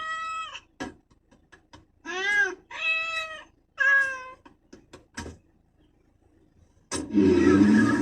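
A cartoon cat gives several distinct meows, spaced across several seconds with quiet knocks between them, ending in a loud noisy burst.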